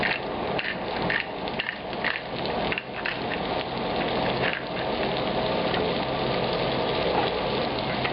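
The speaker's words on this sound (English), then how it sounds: "Let it pan fry for about 1 minute on this side." Seasoned steak, salted and peppered, pan frying in a hot pan for classic steak Diane, giving a dense, continuous crackling sizzle that stays loud and steady throughout with no talk.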